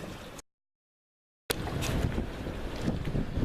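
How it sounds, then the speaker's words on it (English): Wind buffets a sailboat anchored on Nandua Creek, a steady roaring rush with gusty microphone rumble, broken by a brief total dropout before the blowing resumes. "The wind's still blowing"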